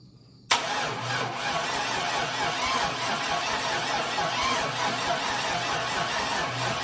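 An old engine in a 1951 vehicle turns over abruptly and keeps cranking steadily and loudly without catching, alone with no talk.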